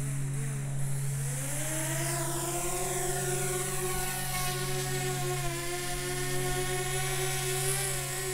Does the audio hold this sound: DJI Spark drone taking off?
yes